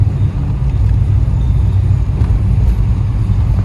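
A 1995 Impala SS with a 383ci engine and big cam at wide open throttle: a loud, steady low engine roar heard up close and alone, with no talk.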